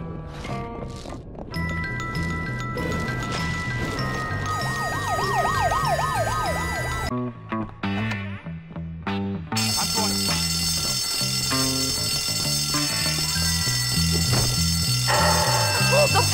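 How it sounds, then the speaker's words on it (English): In the video game Bully, a school fire alarm and siren wail continuously under dense game music and noise. The sound runs throughout at a steady, fairly loud level, with brief dips, and game voices shout over it. "The fire alarm!"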